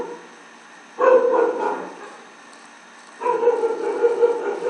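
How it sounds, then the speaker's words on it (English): Dog barking indoors in two bursts of muffled, repeated barks separated by a quiet pause, with a faint background hum. "The dog is barking."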